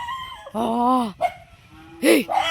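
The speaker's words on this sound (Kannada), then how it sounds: "ಎಲ್ಲ ನಾಯಿಗಳು ಒಟ್ಟಾಯ್ತು" Dogs bark and yelp in a few sharp bursts close by, with a howling, whining call among them.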